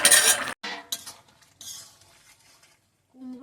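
Pot lid and metal utensils clink and scrape close by while a village-style pumpkin and potato curry boils. Short bursts of clatter are separated by brief quiet gaps.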